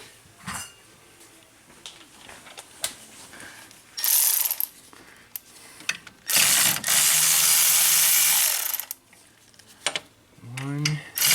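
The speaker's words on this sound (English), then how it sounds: "Let's get our ratchet." A ratchet wrench clicks in short bursts while loosening a fastener on a car engine, close and loud, with rapid pawl chatter between pauses and bits of handling noise.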